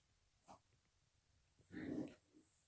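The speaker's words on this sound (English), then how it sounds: "And my dog is tearing my foot up." A dog growls while playing, a faint low snarl swelling briefly after a soft earlier huff, close by in a quiet room.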